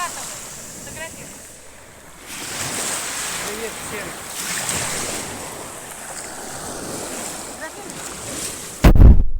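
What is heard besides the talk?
sea waves rolling in at Sochi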